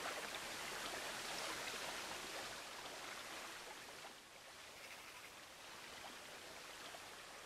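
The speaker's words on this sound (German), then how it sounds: "Und dann hier wieder der Wasserfall." Waterfall in the zoo-building video game Planet Zoo, a faint, steady broadband rush of falling water that stays even throughout with no voices.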